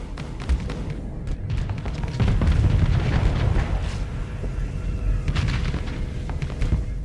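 Missile explosions in the space combat game Starsector, a rolling series of deep booms and thuds overlapping each other, loud and continuous, with sharper cracking impacts scattered through.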